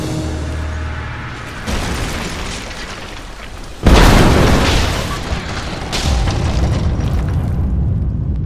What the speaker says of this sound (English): Looks like I'll have to use Greek fire.